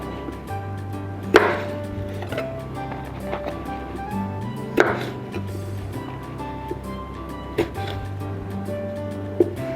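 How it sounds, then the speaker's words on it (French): A knife halves cherry tomatoes on a board, giving a few separate, sharp cuts spaced several seconds apart over a low background hum. "je préfère prendre des tomates cerises, les couper en deux et faire comme ça"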